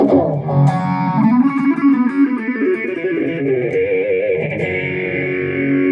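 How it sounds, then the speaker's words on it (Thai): A distorted electric guitar solo through BlackBox and Foot Chocolate effect pedals with phaser plays alone, sustained bending lead notes ringing loudly and smoothly over several seconds. "นี่เป็นเสียงโซโล่"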